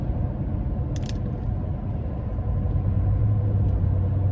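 Steady low road rumble and tire drone inside a 2018 Ram 1500 pickup with a 5.7 Hemi V8 at 77,000 miles, cruising on the interstate; constant and moderately loud, with one brief click early on and no talking.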